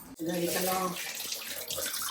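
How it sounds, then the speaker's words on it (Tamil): Dishes are washed under a running kitchen tap after cooking, with a steady rush of water and a brief clatter at the start, close by. "சமையலை முடிச்சுட்டு கழுவிட்டு இருக்கியா?"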